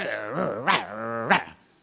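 A man imitates a dog with his voice, producing a long drawn growl broken by two sharper bark-like yelps, loud and close, with nothing else heard.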